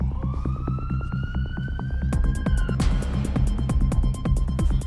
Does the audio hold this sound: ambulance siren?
yes